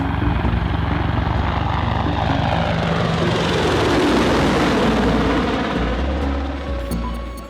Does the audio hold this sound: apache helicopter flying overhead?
yes